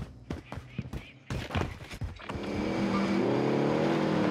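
A vehicle engine in Call of Duty Warzone starts up after a stretch of clicks and game noises, then holds a steady, loud drone with rising harmonic tones that continues to the end.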